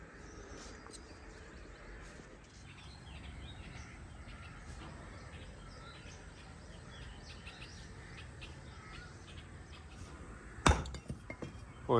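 Bricks are tossed and clink outdoors in a village in summer heat, faint under birdsong and rustling, ending in one sharp, loud crack as a brick breaks, then a few scattered knocks.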